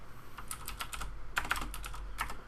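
Quick bursts of clicking keystrokes on a computer keyboard while writing a script, close and fairly soft, in two short flurries separated by a brief pause.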